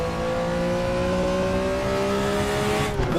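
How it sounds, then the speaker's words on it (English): RaceRoom race car engine holding a steady high drone with whining gear tones layered over it, loud and continuous, with a small burst near the end as the revs change. "popping as the overrun hits the exhaust, the whine of the gears, the engine, the gurgle from this engine itself"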